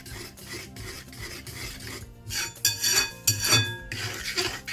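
A spoon scrapes and rubs through cake batter with oil in a metal pan, rasping strokes in an uneven rhythm with occasional clinks, close and fairly loud, no talking.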